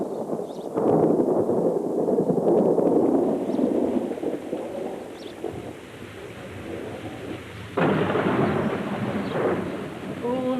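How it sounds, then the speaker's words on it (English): Thunder rumbles through a steady downpour of rain, with a loud roll near the start and another sharp, close crack later over the constant wash of rain. "All night, the rain beat down on the windows of the old house, and the thunder roared down the chimneys."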